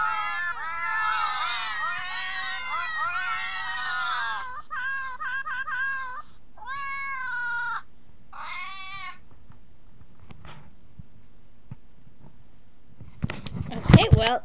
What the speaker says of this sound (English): that was random cat noises